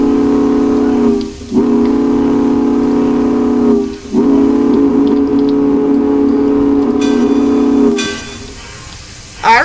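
A loud steam locomotive whistle in the Trainz train simulator game sounds in three long, chord-like blasts, each cut by a brief pause.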